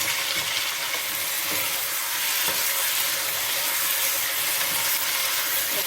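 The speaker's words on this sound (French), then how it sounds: "Attention, ça éclabousse." Steady crackling sizzle of pork tenderloin frying in hot oil, with occasional spatters and pops, close up and continuous with no talking.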